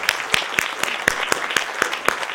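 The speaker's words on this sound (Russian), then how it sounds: "Спасибо вам, мои аплодисменты вам." Concert audience in a hall applauding a romance singer, a soft sparse patter of claps with several sharper individual claps standing out at irregular intervals, moderately distant.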